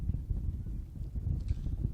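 Steady low rumble of gusting wind buffeting the microphone at an outdoor high school girls' tennis match, continuous and fairly loud throughout with no voices.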